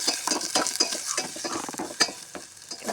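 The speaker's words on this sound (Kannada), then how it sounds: "ಇದು ಸ್ವಲ್ಪ ಫ್ರೈ ಮಾಡ್ಕೋಬೇಕು, ಸ್ವಲ್ಪ ಮೆತ್ತಗಾಗಬೇಕು ಈರುಳ್ಳಿ" Green chili and chopped onion frying in a pan, giving a continuous close sizzle broken by frequent scraping stirs of a spatula, with no talking.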